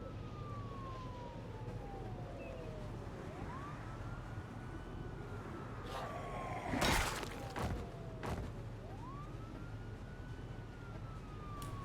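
A wailing siren from a video game's zombie-survival city sweeps slowly up and down over a constant low rumble, with a brief clattering burst in the middle and no voices.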